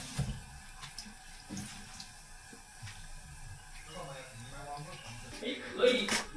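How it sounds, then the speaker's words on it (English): Trimmed enoki mushrooms soaking and being washed in a bowl under running tap water while making hot pot at home: steady splashing and trickling, with brief swishes as they are handled and a voice faintly underneath. "I'll just trim off the roots and give them a quick soak in water."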